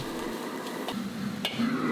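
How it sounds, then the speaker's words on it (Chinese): Chopped aromatics dropped into medium-hot oil in a heated wok, giving a soft, steady sizzle with faint stirring ticks, fairly quiet and close, with no talking. "油温5成热之后，将准备好的料头下锅爆香"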